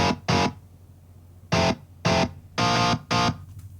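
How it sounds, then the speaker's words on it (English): Distorted rhythm guitar chords on a D'Angelico bridge pickup, played as short punchy bursts in a choppy pattern: two quick stabs, a pause, then four more, each cut off sharply. "for the rhythm guitar, I use the bridge pickup on the D'Angelico"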